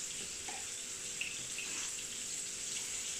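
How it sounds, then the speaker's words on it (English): A steady stream of boiling water pours continuously onto couscous, a broad hissing splash with no talk, running evenly from start to finish. "I'm just going to add some boiling water."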